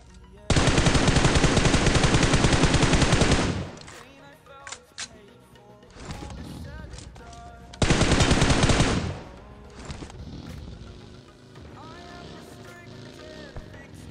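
Sustained automatic gunfire in the mobile battle royale game BGMI, two long loud bursts of several seconds each, separated by quieter game noise, engine hum and scattered distant shots.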